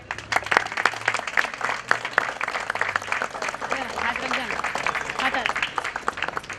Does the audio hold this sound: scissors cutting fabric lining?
no